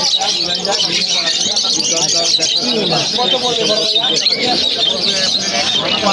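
A busy mix of many birds chirping and squawking at once, loud and continuous, with a voice talking faintly underneath.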